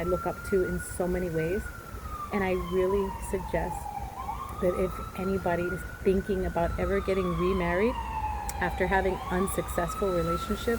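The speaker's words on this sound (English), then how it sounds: "Sorry for the sirens." Police sirens pass outside, a rising and falling wail sweeping up and down at moderate distance, steady under a person talking indoors throughout.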